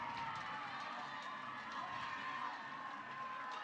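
A Clemson crowd at an NCAA softball super regional game in Norman against Oklahoma keeps up a steady, distant roar of cheering and voices, with no single standout shouts.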